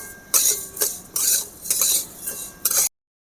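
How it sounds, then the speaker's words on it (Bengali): A metal spatula scrapes and stirs cashew nuts frying in a pan in several repeated strokes, loud and close, before the sound drops to silence. "এগুলোকেও একসাথে আমি ভালো করে লাল করে ভেজে নেব"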